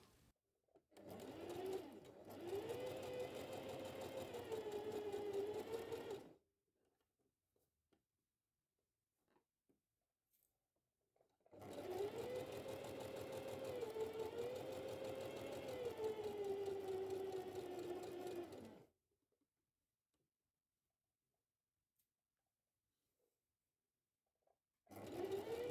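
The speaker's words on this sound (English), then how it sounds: "now that is aligned I will sew on the inside using this line as a guide" A sewing machine stitches dress fabric in two long steady runs of whirring, each several seconds, separated by quiet pauses with small handling sounds.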